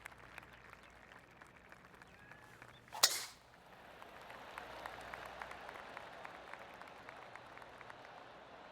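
A golf tee shot on the final hole in PGA Tour 2K23, Korn Ferry Tour Haven Championship, gives one sharp crack, then spectator applause builds and continues.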